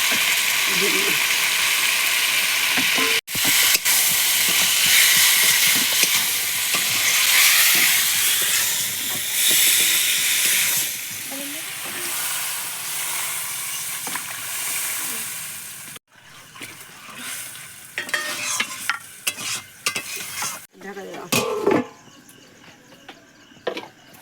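Boiled potatoes go into a hot pan of spiced masala for aloo dum, setting off a loud, sustained sizzle that fades to quieter frying, then stirring scrapes and utensil clatter.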